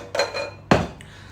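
A cooking pot is picked up and set down in a kitchen, giving two light metallic clinks followed by a louder close clank and a faint final tap.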